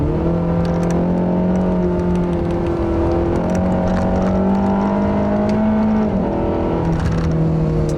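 A 2015 Acura TLX 2.4-litre four-cylinder revs hard above 5,000 RPM with VTEC engaged. The engine sustains a loud, close, rising drone with shifting pitch, heard alone without talk.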